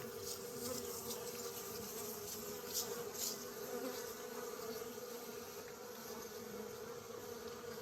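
Honeybees from a wild swarm being collected buzz steadily and densely nearby, a continuous agitated drone that holds throughout without pause.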